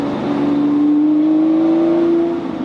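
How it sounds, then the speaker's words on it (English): A Lamborghini engine revs in one sustained, loud drone whose pitch climbs slightly as it holds for about two seconds, echoing off nearby trees before easing off. "you can hear the engine reverberating off the trees"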